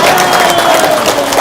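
Loud, dense applause from a crowd, a burst of close clapping that fills the whole moment without pause.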